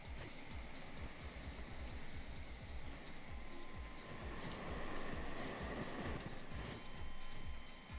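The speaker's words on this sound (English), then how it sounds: "Yeah, we have hover train." Hover train running in Scrap Mechanic, a steady dense rushing drone with rumbling low end that holds fairly loud and even throughout, swelling slightly toward the end.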